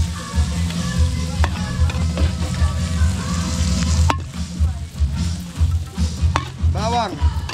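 Onions and garlic sauté in butter and cooking oil for a catered beef broccoli dish, a steady, close sizzle with occasional scrapes and stirring clatter as the pan is worked.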